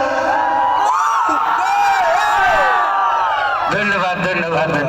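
A live audience at a stage show cheers, whoops and shouts loudly on request, a dense, sustained roar of many voices with rising yells and some clapping, the crowd noise swelling again near the end.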